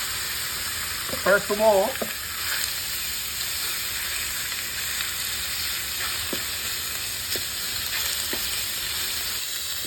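Pork sizzling in extra virgin olive oil in a paella pan, a steady frying hiss throughout with brief stirring clatter early on and a short spoken phrase near the start.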